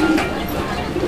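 A black Homa pigeon gives a low, soft cooing that rises at the start and returns near the end of a short stretch, close by over a faint background hum.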